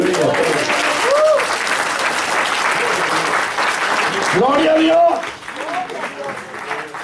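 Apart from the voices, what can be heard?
congregation applause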